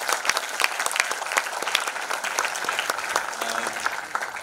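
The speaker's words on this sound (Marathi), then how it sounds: "सर्वप्रथम तुम्हासाठी स्वतःसाठी टाळ्या मला एकदा ऐकायच्या" An audience at a Marathi film music launch event claps steadily, a sustained round of applause with scattered sharper hand claps, fairly distant, without talk over it.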